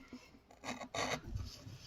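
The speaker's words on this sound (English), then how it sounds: "You need to get a sharp chisel, and you can just pare away" A sharp chisel pares wood to a straight line in a few short, quiet scraping strokes, close up, in a small workshop setting.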